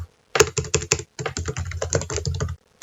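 Rapid typing on a computer keyboard, close and crisp, with fast clustered keystrokes, a brief pause, then another quick run of clicks.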